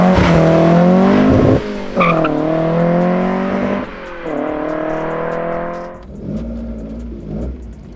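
A Mk2 Ford Escort van swapped with a C20XE engine accelerates hard through the gears, the loud close revving engine climbing repeatedly between shifts, with tyre squeal, before easing off to a lower idle-like drone.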